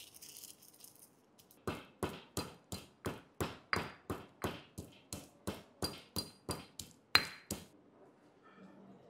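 Black pepper and whole coriander seeds being coarsely crushed, about eighteen evenly spaced sharp pounding knocks in a steady rhythm, close and fairly loud, with quiet pauses before and after.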